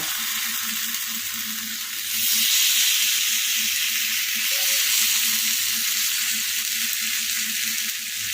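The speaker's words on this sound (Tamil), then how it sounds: "சிம்மிலேயே வச்சு வேக வைங்க, அப்போ தான் உருளைக்கிழங்கு நல்லா ஃப்ரை ஆகுங்க" Potatoes fry in oil on a tawa over a low flame, giving a steady close hiss that swells slightly partway through. A faint low hum runs beneath it and no voices are heard.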